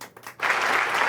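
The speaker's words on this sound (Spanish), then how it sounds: "Un aplauso para todos ustedes también desde mi corazón." Applause from a Spanish-speaking congregation at a Shabbat gathering swells after a brief lull and holds steady as a dense, close wash of clapping.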